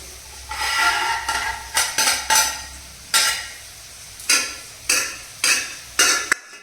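A metal spoon or ladle scrapes cooked rice stuck to the bottom of a cooking pot in about nine separate rasping strokes, each starting sharply and trailing off, loud and close with no talk.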